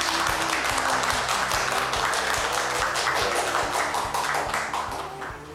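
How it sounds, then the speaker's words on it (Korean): Applause from an audience at a Korean university lecture greets a guest speaker, a dense, loud wash of many hands clapping that holds steady and eases slightly at the end. "박수 부탁드립니다."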